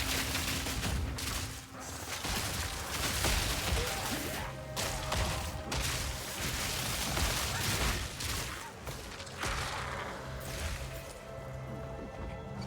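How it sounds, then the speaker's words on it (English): Explosions and gunfire-like blasts in the action role-playing video game Path of Exile 2, a dense continuous barrage of crashes and bursts throughout, loud and busy with no talk. "And there's a lot of explosions around here."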